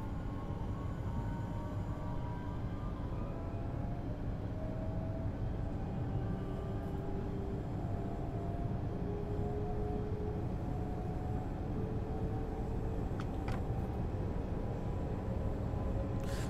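A train on the Dresden–Riesa line in the Train Sim World 2 game runs at full power, giving a steady, loud low rumble with a humming motor whine that shifts in pitch, continuous and with no one speaking.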